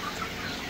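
Broiler chickens on a poultry farm fill the air with a brief, dense wash of overlapping clucks and chatter, steady and close throughout the short moment.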